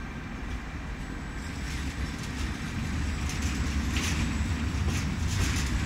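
A train rumbles through the station on track 1, a steady low roar of wheels and carriages that builds gradually as it passes, with no voices.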